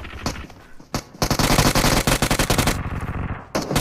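Rapid automatic gunfire in the BGMI battle royale game, loud and close, with long continuous bursts separated by brief pauses.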